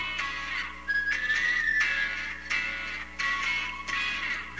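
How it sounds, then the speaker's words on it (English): A high, wavering whistle melody floats over the synth-pop backing of a song, recurring in phrases across the passage with steady beats underneath and no talking. "The whistle."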